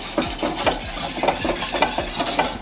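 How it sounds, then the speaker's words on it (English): Sugar and pectin being whisked into fruit puree in a pastry kitchen, a steady rhythmic scraping stir of the whisk against the pan, close and fairly loud with no talking. "we pour all that in and make sure to whisk it in so we don't get any lumps of pectin into the puree"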